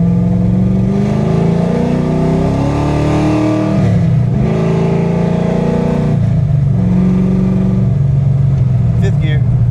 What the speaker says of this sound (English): Car's running great.